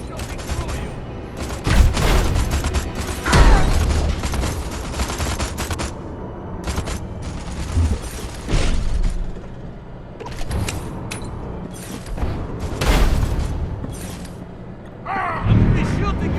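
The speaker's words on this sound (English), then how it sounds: "No problem shooting through you!" Repeated bursts of gunfire from alien weapons in Destroy All Humans 2, fought against the KGB, loud, dense and layered with mechanical clanks; in-game voices and a player's speech break in between volleys.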